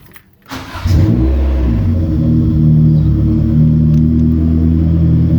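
A B20 engine in a B20 hatch cranks briefly and then catches, settling into a loud, steady idle rumble close up, with a slight rise in revs, and no one speaking.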